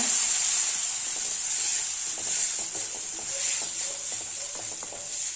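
Turmeric, chili powder and masala are stirred into onion and tomato sautéing in a pan on low heat, a loud steady sizzling hiss with soft scraping and clicking from the spoon.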